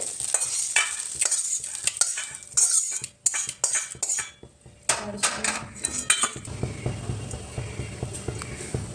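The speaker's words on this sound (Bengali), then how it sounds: "ডিমগুলোকে ভুজিয়া করে ভালো করে ভেজে তুলে নিতে হবে।" Scrambled eggs fry and get stirred in a pan for a home-style pasta dish, with close, irregular scrapes and clinks of a utensil against the pan over a soft sizzle. The pan sounds shift into a lower, busier frying noise near the end.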